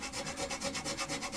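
A file cutting a bone guitar nut on a Baby Taylor, heard as a steady rhythmic rasp of quick back-and-forth strokes, close and fairly quiet with no talking.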